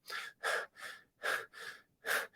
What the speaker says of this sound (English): breathing through our mouth into our upper chest in kind of a hyperventilated, like, panting sort of state